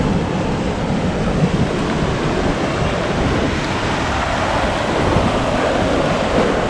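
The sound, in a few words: violent ocean waves crashing on a beach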